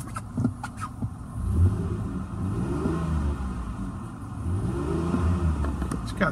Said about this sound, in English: I'm gonna rev it up for you so you can hear the engine.